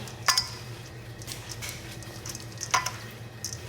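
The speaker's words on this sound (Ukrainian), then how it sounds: "Це все треба перемішати." A spoon stirs a lazy cabbage roll mixture in a bowl, heard as a few sharp metallic clinks at irregular intervals over soft, close scraping and mixing, with no talk.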